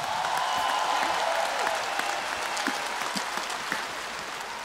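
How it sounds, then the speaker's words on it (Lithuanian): A concert audience at Žalgiris Arena applauding to welcome a singer back on stage, dense sustained clapping from a large crowd that slowly eases off. "ar galėtumėm plojimais į sceną atgal pasitikti mūsų dyvą"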